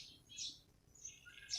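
Birds chirp from the trees of an office garden: a few short, high chirps come in separate bursts, faint and a little distant, with no talking.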